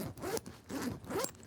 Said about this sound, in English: Listen to the zipper.